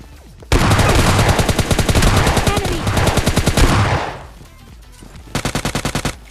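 SK12 shotgun fire in a video game: a loud, dense burst of rapid repeated shots for several seconds, then a short pause and a second quicker volley.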